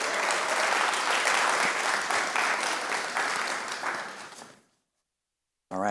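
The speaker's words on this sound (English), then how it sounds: "let's please thank them one more time with a round of applause" Sustained audience applause at a community summit, a dense wash of many hands clapping that fades out near the end, followed by a brief silence.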